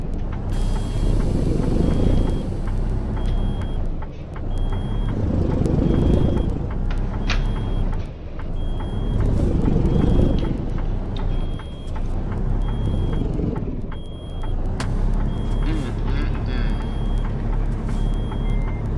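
Low air pressure warning in a truck in American Truck Simulator hauling an M142 HIMARS, steady repeated electronic beeps over a rumbling diesel engine that swells and fades in cycles, with short gaps where the beeping pauses.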